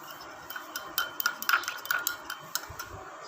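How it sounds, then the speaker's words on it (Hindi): Egg-based skin remedy being mixed in a bowl, with a run of sharp clinks and taps of a utensil against the bowl, irregular and close, bunched in the middle and spread out near the end. "इसको मैं अच्छी तरह मिक्स कर लूँगी।"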